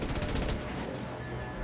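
Gunfire in the video game Mass Effect, a quick rattling burst of rapid shots at the start trailing into a rumbling, echoing tail.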